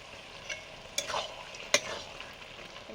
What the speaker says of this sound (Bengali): কিছু নিম পাতা ভাজা দিয়ে দিলাম।